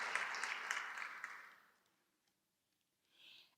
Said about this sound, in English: So another round of applause for all of these distinguished alumni.